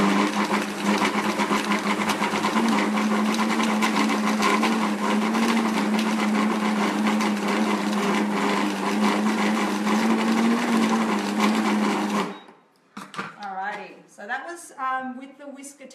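ThermoCook kitchen machine with whisk attachment blending strawberries into sorbet, a loud steady motor whir for about twelve seconds that stops abruptly, followed by someone talking.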